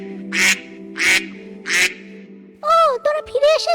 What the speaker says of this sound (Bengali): হাঁসগুলো প্যাক প্যাক করে ঘরে ঢুকে গেল